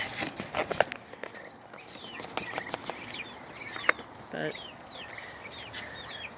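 Chickens cluck and call while eating fresh greens on a farm, with short bird calls scattered over a low, steady background and a few scuffling footsteps; a person speaks briefly in the scene.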